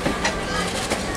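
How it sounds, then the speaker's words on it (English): Train rumbling into a station at the Strasburg Rail Road, a low steady rolling noise with faint rail clatter under a busy background, with no clear speech. "as the train pulls in"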